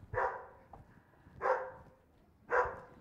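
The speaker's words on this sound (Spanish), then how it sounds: "hay un perro" A dog barks inside a house, three loud separate barks spaced about a second apart against a quiet room.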